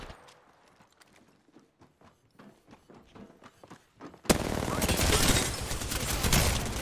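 Apex Legends gunfire: faint scattered shots and footsteps at first, then a sudden loud, dense barrage of close automatic fire and impacts filling the second half.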